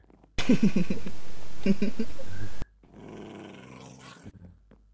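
A dog growls loudly and steadily for about two seconds at close range, with a rougher snarling burst partway through, followed by quieter muffled sounds and a brief voice.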